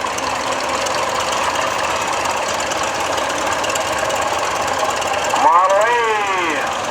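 An antique tractor engine runs steadily in a parade, a constant mid-range mechanical drone with crowd noise and voices mixed in; a brief rising-and-falling whistle-like sound cuts in near the end.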